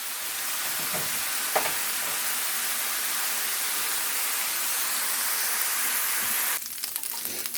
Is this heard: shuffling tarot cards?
no